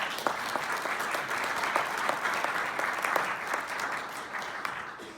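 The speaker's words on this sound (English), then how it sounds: "Let's give him a big round of applause." A conference audience applauds after a talk at an agile software event, steady, dense clapping from a sizable crowd in a hall, sustained throughout and tapering slightly at the end.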